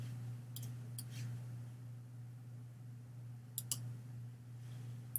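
A computer mouse clicking in a quiet room, a few faint, sharp double clicks spaced apart over a low steady hum, with no talking.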